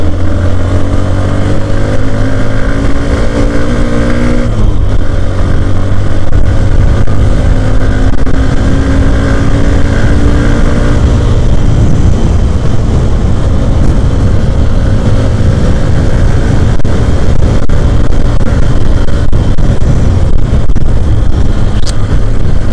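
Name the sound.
Hero Xtreme 125R motorcycle being ridden and accelerated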